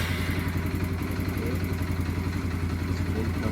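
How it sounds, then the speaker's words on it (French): A Yamaha XT125X motorcycle engine runs nearby at a steady idle, a continuous low, throbbing chug with even mechanical clatter that stays constant throughout. "Donc vas-y, démarre ta moto."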